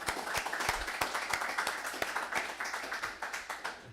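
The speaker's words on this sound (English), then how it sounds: "So everybody here, just give ourselves a round of applause." A small graduating class of an executive protection security course claps in applause, individual sharp hand claps audible in a fairly sparse, close, uneven rhythm for several seconds.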